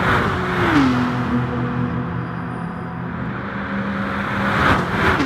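Race cars in Gran Turismo Sport speed past on the Mount Panorama circuit, a steady loud engine drone with pitch sweeps at the start and end as cars fly by, no speech over it.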